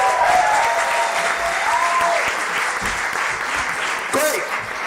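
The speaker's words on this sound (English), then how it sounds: "Will you carry on that round of applause for Kae Alexander?" Loud, continuous applause from a comedy-night audience fills the room, a dense roar of clapping hands, with some shouts and cheers rising over it near the end.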